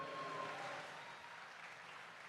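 Applause from an audience, a soft, continuous wash of many hands clapping, faint and steady, gradually settling slightly lower in level.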